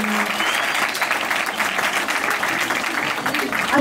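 Audience at a school applauding, a dense, steady clatter of many hands that fills the whole stretch at an even level, with faint crowd murmur underneath.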